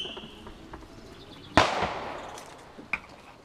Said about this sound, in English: Roman candles.